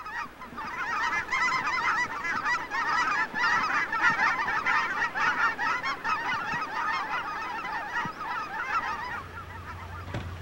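A large flock of geese honking at a wetland on the Modoc National Forest, a dense, continuous chorus of overlapping calls at moderate distance with no voices.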